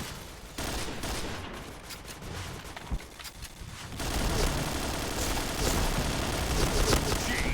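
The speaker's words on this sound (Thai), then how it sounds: "อันนี้ผมยิงค้างเลยนะยิงค้างแล้วลากเอา" Sustained automatic gunfire rattles in the Point Blank video game, with rapid shots throughout that grow denser and louder in a continuous held burst partway through.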